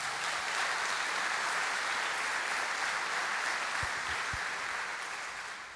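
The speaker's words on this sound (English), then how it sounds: "give her a round of applause" A church congregation at a Sunday morning service gives a round of applause, a steady, dense wash of clapping that continues evenly throughout, with a few low thumps near the end.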